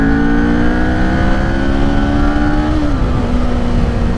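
A 2020 Kawasaki Z400, a 400cc beginner motorcycle, accelerating hard in third gear from about 6,000 RPM, its engine note loud, close and rising steadily in pitch before a brief dip near the end.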